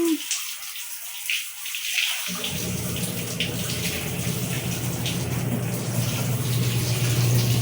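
Water runs steadily from a tap at close range while a cat is being bathed, starting after a brief quiet moment and continuing as a constant rushing stream.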